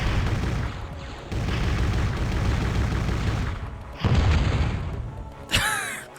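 Homing rocket launcher fire and explosions in the video game Turok: Evolution: several loud, rumbling booms in succession, each swelling and decaying, with a sharp burst near the end.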